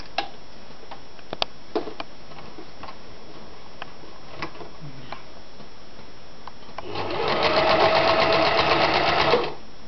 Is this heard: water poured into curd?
no